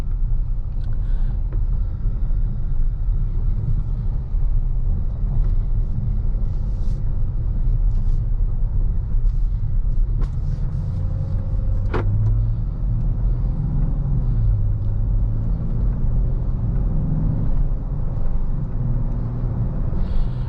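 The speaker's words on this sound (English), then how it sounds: "just gonna put it in drive here and we will set off." Steady engine hum and road rumble from inside a moving 2021 Dodge Charger GT, constant and fairly loud throughout, with faint ticks and whirs.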